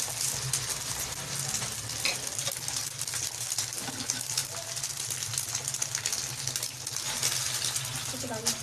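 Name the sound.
egg frying in a pan for burger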